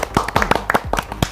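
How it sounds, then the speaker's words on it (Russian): A short burst of applause from a talent show audience, several hands striking in a quick irregular rhythm, close and fairly loud. "Салавату Сакаеву аплодисменты."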